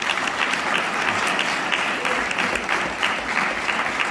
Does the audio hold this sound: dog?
no